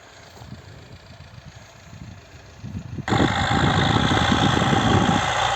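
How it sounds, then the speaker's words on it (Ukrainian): A tractor engine runs at idle in a field during cultivation and barley sowing, a steady low rumble that grows noticeably louder and denser about halfway through. "Трактор, звісно, страшний."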